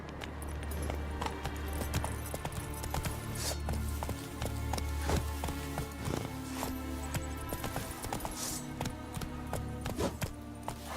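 Geralt's horse Roach galloping in The Witcher 3: Wild Hunt, a rapid, uneven run of hoof clip-clops layered over game ambience and music, moderately loud and continuous.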